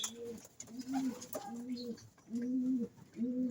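Young pigeons coo inside a loft, repeated low, throaty coos in a steady rhythm, close and clear, with faint background noise.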